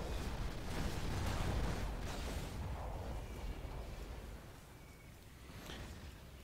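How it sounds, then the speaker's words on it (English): Flak anti-aircraft fire from the Rise of the Reds strategy game rumbles as a low, dense stream of distant bursts and booms, louder at first then easing, with no talk. "I absolutely love those new flak effects."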